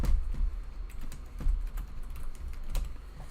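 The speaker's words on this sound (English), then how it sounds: "I'm gonna grab the keyboard real quick." Rapid clattering keystrokes on a computer keyboard, close and fairly loud, with irregular bursts of taps running steadily throughout and no talking.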